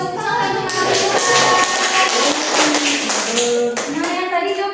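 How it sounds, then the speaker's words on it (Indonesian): Children clapping together in a primary school classroom, a dense rhythmic patter of hands close by, with voices chanting along over the claps. "Oke, tepuk tangan."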